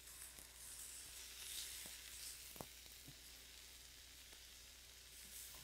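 Fish frying in a pan, a steady quiet sizzle with faint occasional pops and crackles, no voices.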